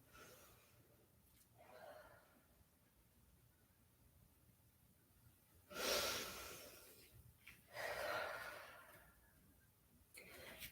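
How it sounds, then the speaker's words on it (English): Deep breathing held in child's pose during a yoga flow: a few slow, airy inhales and exhales spaced several seconds apart, close to the microphone, with quiet pauses between them. "Big deep breaths here."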